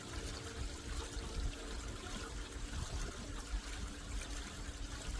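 Water pours gently and steadily into a gold sluice box during a river sand run, a soft continuous trickle and splash that stays quiet and even throughout.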